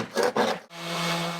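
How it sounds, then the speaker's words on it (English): A scraper rasps old paint off an exterior surface, two short rough strokes followed by a longer sustained scrape, close and loud with no talk. "Start your project by using a scraper to loosen and remove the old paint from the exterior surfaces."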